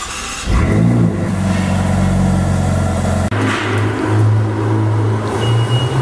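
A Ferrari California T fires up with a sharp bark, settles into a loud close idle, then blips the throttle with a quick rev that rises and falls again.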